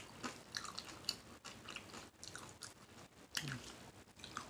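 Someone chews Chipotle tortilla chips with guacamole close to the microphone, giving soft, wet, continuous crunching and smacking at low volume.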